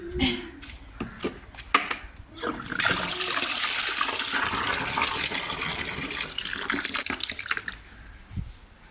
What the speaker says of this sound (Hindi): और अब इसको वापस से पानी पिला रही हूँ मैं।